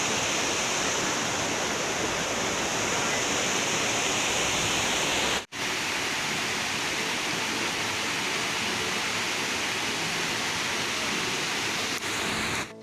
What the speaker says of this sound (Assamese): এয়াই হৈছে ছেভেন ছিষ্টাৰ ৱাটাৰফল আৰু ইয়াতে 7টা ৱাটাৰফল একেলগতে বৈ আছে